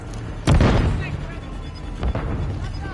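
A grenade goes off in the game Modern Warfare 3 with one loud, close boom that rumbles and fades. Weaker thuds and gunfire follow under in-game voices.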